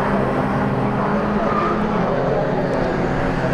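BMW Compact Cup race cars lapping Cadwell Park circuit, a steady dense engine roar from several cars closing up under braking, loud and continuous throughout.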